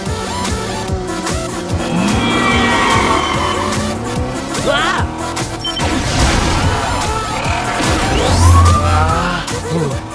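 A cartoon car from Max Steel drives fast, its engine roaring with repeated tire squeals and a crash-like impact mixed with music and effects, loud and busy throughout, with a few voice sounds underneath.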